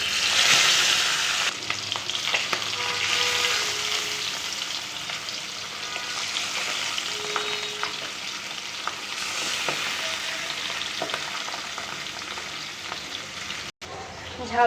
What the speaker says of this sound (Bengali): তেল গরম হয়ে গেছে, দিয়ে দিব পাবদা মাছ।